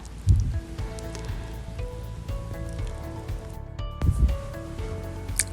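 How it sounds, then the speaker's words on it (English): Hijiki seaweed sautéing in a pan, a soft steady sizzle and light moist crackle running throughout, with a couple of louder stirring bumps near the start and end. "And add hijiki and saute some more."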